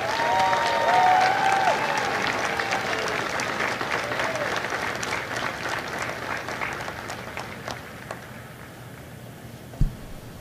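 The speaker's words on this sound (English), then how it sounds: "please join me in a round of applause for the company staff of Company F" Sustained applause from a crowd at a Marine recruit graduation ceremony at MCRD San Diego, loud at first and gradually thinning out, with faint tones and a brief thump near the end.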